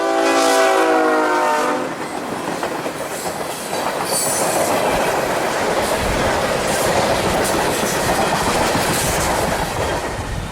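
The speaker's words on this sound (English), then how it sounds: "Q742, the Tropicana juice train, is running around the tied-down Q452 here at 10th Street." A CSX freight train with two engines and six cars rumbles past on 10th Street in Lakeland, with a horn blast at the start, then a continuous heavy clatter of wheels on rails, loud and close.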